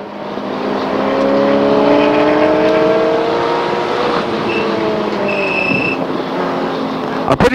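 Race car lapping the Chuckwalla circuit, engine droning steadily with a rising, shifting whine throughout, fairly loud and close, with a sharp burst of noise near the end.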